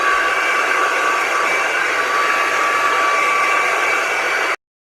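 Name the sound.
hair dryer blow drying thick natural hair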